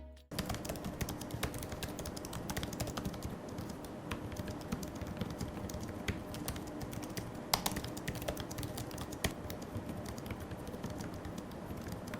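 Steady, quick typing on an Asus Zenbook laptop keyboard, with soft key clicks tapping continuously and an occasional sharper keystroke.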